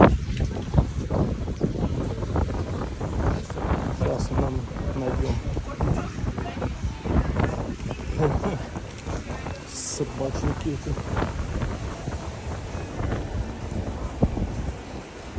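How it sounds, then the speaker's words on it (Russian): Strong seaside wind buffets the microphone in a constant low roar and rumble, while a person talks over it and footsteps move along. "Там не было ветра, а здесь ветруганище."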